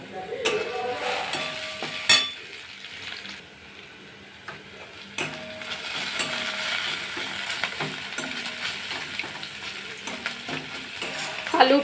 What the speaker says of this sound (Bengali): কাঁচা সুজি নেড়ে নিচ্ছি